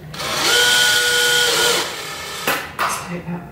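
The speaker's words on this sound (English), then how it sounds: "Right, to get the wall plug out, I've just reversed the drill." A power drill runs in reverse to back a wall plug out of a plastered wall during a house renovation, a loud steady whine that winds down, followed by brief knocks.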